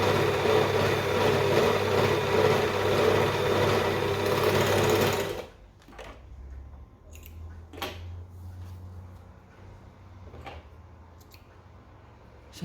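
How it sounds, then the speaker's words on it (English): An overlocker serges the raw edge of a T-shirt sleeve, running in one loud, steady, close whirring burst for about five seconds before stopping, followed by quieter handling noises. "So first of all, I'll overlock that."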